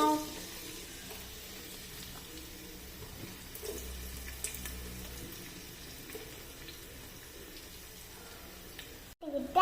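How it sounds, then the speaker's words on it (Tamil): Onions frying in oil for mutton mandi, a steady low hiss and crackle that holds evenly throughout, fairly quiet, with no voices. "எண்ணெயை ஊற்றிக்கோங்க, வெங்காயத்தை எடுத்து போட்டுக்கோங்க,"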